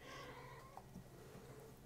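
A pet cat meows faintly in the room behind a quiet game session, one or two soft, brief calls against a steady low hum.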